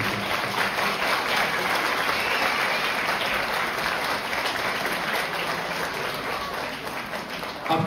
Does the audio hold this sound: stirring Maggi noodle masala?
no